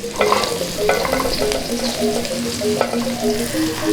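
Garlic and galangal fry in a pan for a Sundanese dish, a steady close sizzle broken by scraping stirs of a spatula at a loose, irregular rhythm.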